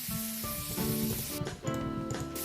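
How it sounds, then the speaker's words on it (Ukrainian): A spray can hisses in the Roblox game Adopt Me as color is applied, in short, close bursts over a soft background. "Далі беремо цей колір і пшикаємо ним чотири рази."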